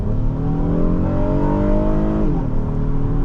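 A 2020 Honda Odyssey Elite minivan engine revs hard on a test drive, its loud rising tone climbing smoothly before dropping at a gear change, with no voices.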